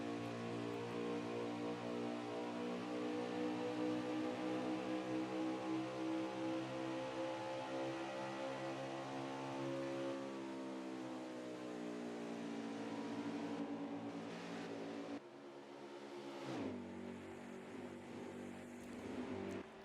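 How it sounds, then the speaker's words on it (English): Race car engine of the 2 car in a sim race at Homestead-Miami Speedway: a continuous harmonic engine drone whose pitch climbs and falls with throttle through a lap, then briefly cuts and picks up again, steady and close. "Let's ride along with the 2 car for a few laps, listen to his throttle control like we did with the 37."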